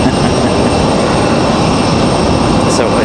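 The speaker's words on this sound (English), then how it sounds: "Probably losing some money with this dirty plane right here" United airliner jet at Raleigh-Durham airport, a loud, steady engine roar close by that fills the whole moment, with a voice talking faintly underneath.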